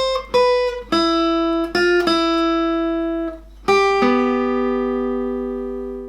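Clean electric or acoustic guitar picking out the opening melody of a song, single notes ringing one after another with a few quick taps, then a final sustained note fading out, played alone.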